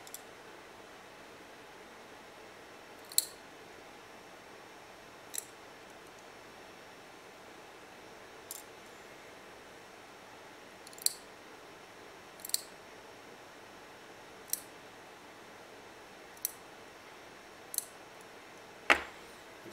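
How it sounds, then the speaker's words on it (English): Sharp, isolated scissor snips cutting excess cotton wick on a GG Iatty atomizer, about ten quiet cuts spaced a few seconds apart over a faint steady hiss. "we're gonna cut the excess wick"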